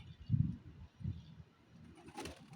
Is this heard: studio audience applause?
no